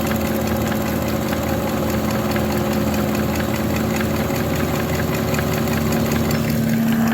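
A Sun distributor test machine spins an Olds 4-4-2 W-30 distributor at low RPM, giving a steady motor hum with a rapid even rhythmic ticking, constant and close with no talk.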